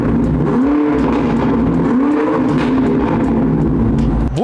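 A BMW M8 Competition with carbon trim drones loudly and steadily at close range, its engine note swelling into two rising sweeps of revs before cutting off abruptly at the end.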